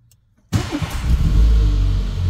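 A 2005 Dacia Logan engine cranks and catches after a timing belt change, then settles into a loud, steady running rumble close by, with a slight rev as it fires.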